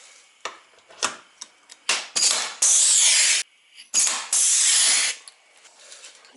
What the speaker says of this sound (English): We'll just start a couple of rivets here in the middle.